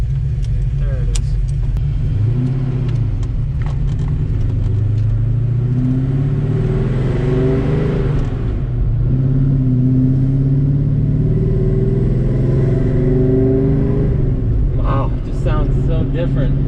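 A rebuilt Ford Mustang engine running close by, a loud steady idle with rising and falling revs throughout, while people talk over it.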